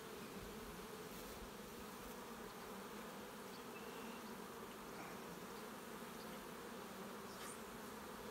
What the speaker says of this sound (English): So I see bees landing, nectar coming in.